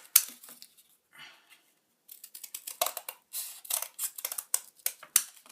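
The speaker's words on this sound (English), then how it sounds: "take your bit of cardboard and cut out some of the bottom pieces in 2 little rectangles like this" Scissors snip through a piece of cardboard to cut small rectangles, a run of close, crisp crunching cuts after a brief quiet pause.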